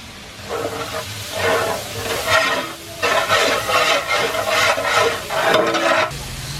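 Sliced onion fries in a pan with salt, the sizzle swelling in loud hissing bursts each time it is stirred, then easing back between them.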